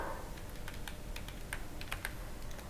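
Keys clicking in an irregular run as Python code is entered on a computer keyboard, close and fairly quiet with no voices.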